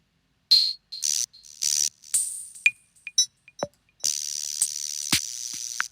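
Sparse Roland CR-78 drum machine hits, a kick and clicky percussion, followed by a sustained hissy cymbal-like wash with accents, crisp and dry.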